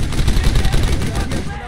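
Rapid gunfire in the WWII shooter Brothers in Arms: Hell's Highway, a dense, loud burst of overlapping shots and automatic fire sustained across the whole moment, with no pause between reports.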